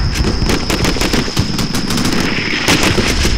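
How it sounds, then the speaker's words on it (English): Gunfire from Stryker vehicles in the video game Combat Mission: Shock Force. A loud, continuous burst of rapid machine-gun fire rattles without pause, layered with overlapping shots. "and I immediately return fire from the strikers."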